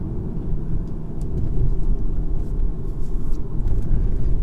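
VW Golf GTI or Golf R pushed hard through a corner, a steady low engine drone and road rumble held at an even level with no break, heard from inside the cabin.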